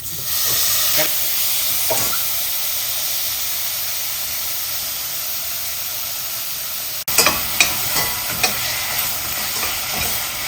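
Tomatoes sautéing in a pan for vethu sambar, a steady broadband sizzle with scattered stirring scrapes that grow sharper and clearer partway through, close and fairly loud with no talk.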